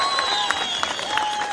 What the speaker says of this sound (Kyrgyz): бир кол чаап коелучу